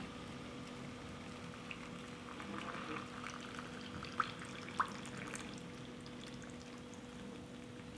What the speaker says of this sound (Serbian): Voda je proključala i sada ću napuniti tegle.